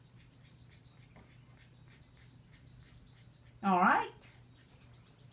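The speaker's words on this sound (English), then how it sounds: "I noticed when I said birds, the birds started cutting up outside." Birds chirp faintly outside in a repeating pattern through the whole stretch, with insects buzzing alongside, while a person says a single short word indoors.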